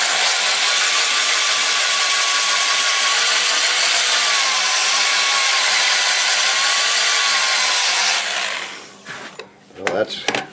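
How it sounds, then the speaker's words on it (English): 80 grit sandpaper pressed against a spinning sweet gum bowl on a wood lathe makes a loud, steady abrasive hiss under the motor's hum for about eight seconds, then gives way to scattered knocks and handling noises. "I'm going to start with 80 grit, and I can sand the center section while it's spinning"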